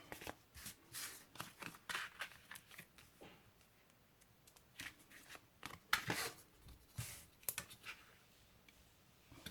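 Paper for a scrapbook album being cut with scissors, a series of close, crisp snips and rustles in irregular bursts, quiet and without talking.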